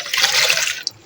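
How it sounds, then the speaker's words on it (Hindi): A glass of water is poured into a jar holding about 50 grams of sandalwood powder, a short close splashing gush that ends abruptly with a final drip, no speech. "और अब इसमें 1 गिलास पानी"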